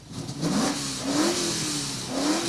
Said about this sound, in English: Give it a blip on the old throttle then.